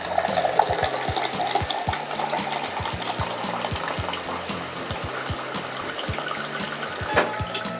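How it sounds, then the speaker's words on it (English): Alkaline water from a Life LC-11 ionizer runs steadily into a glass, a continuous close pouring stream with small clicks and splashes throughout. "we're going to show you how to dispense water using the dial system"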